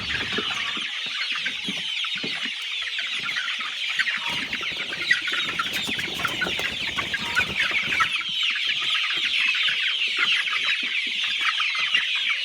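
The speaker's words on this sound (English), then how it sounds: "you can see the birds are very active" Laying hens in a poultry house keep up a dense, continuous chorus of clucking and chattering, many birds at once, loud and close throughout.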